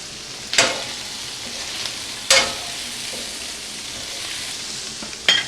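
Chicken sizzling and browning in a frying pan, a steady close hiss of frying broken by three sharp scraping stirs.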